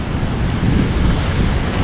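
Dangerous sea waves crashing near the Hassan II Mosque and the marina and port, a continuous loud roar of surf blended with heavy wind rumble, with no voices.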